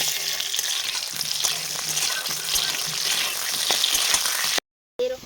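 Washed potatoes frying in hot mustard oil in a heated kadai, a steady loud sizzle with crackling throughout that cuts off briefly near the end.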